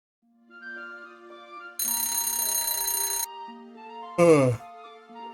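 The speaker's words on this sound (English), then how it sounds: "I bonked my alarm clock to shut it off" An alarm clock rings in a long, steady, bright electronic tone before stopping, followed by a sharp clatter as it is struck to shut it off, with a soft mechanical chirp in the background.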